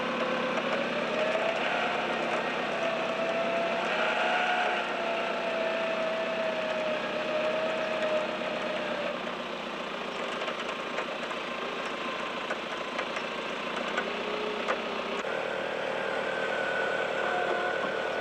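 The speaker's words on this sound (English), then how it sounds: "by using the 2 snatch blocks, plus me driving, plus the winch, I should be able to get out of this bad bog pretty easily" A vehicle bogged in outback mud strains to pull free with a winch and two snatch blocks, its engine droning steadily and close alongside a whirring mechanical whine for the whole stretch, with no talking.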